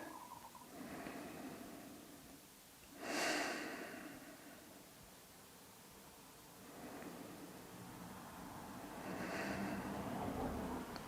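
Slow, deep breathing during a calm yoga practice: a few soft breaths alone in a quiet room, with a noticeable inhale near three seconds and another longer one near the end, no talk.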